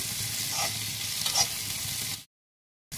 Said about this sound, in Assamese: আলুখিনি অলপ ভাজি ল'লোঁ